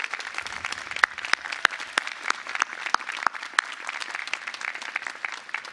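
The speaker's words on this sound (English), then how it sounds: "Let's give her a big round of applause." A commencement crowd applauds a retiring provost at a university graduation ceremony. Strong, continuous clapping from a large audience lasts several seconds, with sharp individual claps popping out of the wash.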